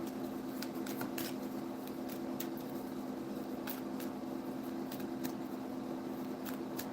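Tarot cards are shuffled close up in a quiet room, with scattered soft riffling and slapping sounds over a steady low hum.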